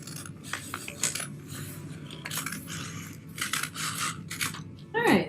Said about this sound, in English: you're going to take your scissors and you're going to chop off this extra part